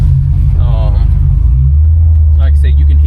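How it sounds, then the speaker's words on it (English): A built 1988 Chevrolet Caprice with a high-stall converter rumbles loud and close, its engine revving up once near the start before settling into a steady deep idle, with a voice talking over it. "Like I said, you can hear it revving up."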